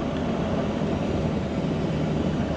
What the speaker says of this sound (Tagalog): Laki ng eroplano to, oh.